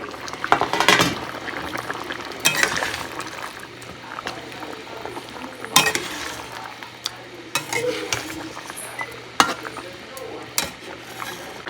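Vegetables simmer in a pot, a steady bubbling hiss broken by occasional clinks and scrapes of a utensil against the metal, close and moderately loud with no talking.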